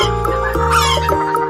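A hen clucks and cackles in a short run of calls, close and clear, with no talking.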